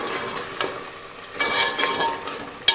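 Mutton frying in a pan, a soft steady sizzle with a few scraping stirs of a utensil, close and moderately loud.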